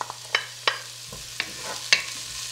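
Ginger and spices frying and stirred in a pan, a soft background sizzle broken by four or five sharp spatula scrapes and clacks at irregular intervals, close by with no talking.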